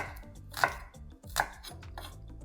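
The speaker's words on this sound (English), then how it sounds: "For garlic, we'll simply bash and roughly chop." A knife chopping garlic strikes a cutting board with two sharp chops followed by lighter, quicker taps, close and clear with no talking.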